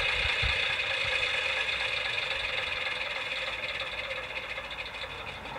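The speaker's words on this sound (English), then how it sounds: "If we now press the engine stop button, the engine will now stop." Sound unit of a Gauge 1 radio-controlled model Class 03 diesel shunter, its engine note a steady knocking idle throbbing close by that gradually softens as the engine winds down.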